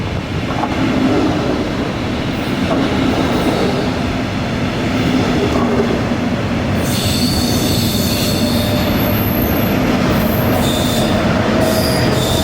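Passenger train pushed by a Taurus-type electric locomotive, wheels squealing loudly and continuously on the rails close by, with steady rolling rumble throughout.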